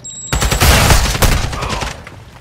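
Rapid gunfire erupts in a shooter video game during a bomb-defusal round: dense, loud bursts of shots crowd together for about a second and a half, then thin out and fade.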